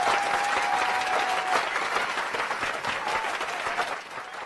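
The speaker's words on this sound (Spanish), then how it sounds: "Aplausos, desde luego," Sustained applause from an assembled audience, thick and even clapping for several seconds before easing slightly at the end.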